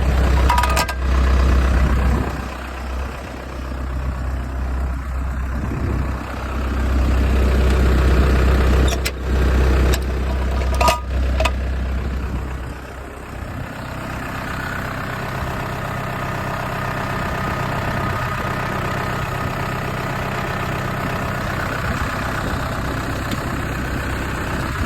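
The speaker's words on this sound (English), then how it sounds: "First we're gonna see if we can start the other tractor." A farm tractor engine cranks and catches with a few sharp knocks, then settles into a steady low idle that runs on evenly for the rest of the stretch, with no talking.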